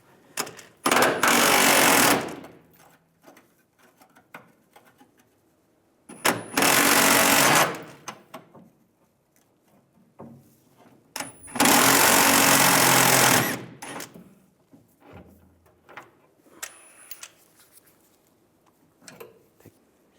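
Three loud bursts of a power impact tool removing a nut on a 2007-2013 Chevrolet Silverado 1500 leaf spring with a 21mm socket, each rattling burst lasting a couple of seconds, separated by quiet gaps with faint clinks.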